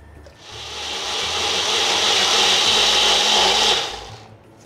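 Mixer grinder pureeing cooked broccoli for a broccoli almond soup: a loud, steady high-pitched whirring blend that swells after a brief start, holds for several seconds, then winds down, with no talk.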